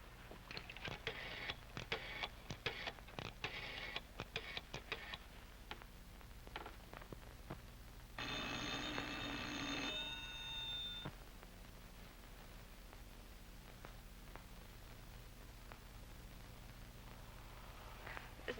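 An old telephone in a 1942 film rings unanswered: one sustained, bright ring burst in the middle, preceded by scattered clicks and handling noises, then quiet room tone.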